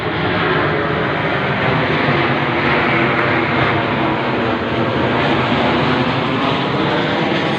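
A surveillance plane passes straight overhead at night, giving a steady, loud droning roar that holds evenly throughout with no voices.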